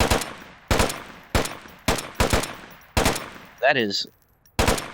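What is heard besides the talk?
full-auto fire of the Volk rifle in a video game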